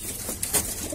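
Homing pigeons at a backyard loft, with faint cooing and a couple of brief wing flaps or shuffles heard close by against steady background noise.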